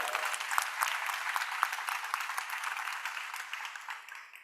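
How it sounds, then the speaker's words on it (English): An audience applauds the contestants at the finals of the Optimist International Oratorical World Championships: dense, steady clapping from many hands that carries on evenly, then tapers off at the end. "Let's give all our contestants a round of applause."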